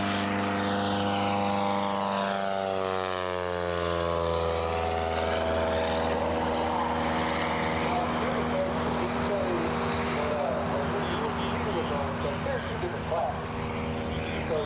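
A propeller airplane racing past at an Arkansas air race, its engine drone rising and sweeping down in pitch as it passes close, then settling into a steady, loud roar.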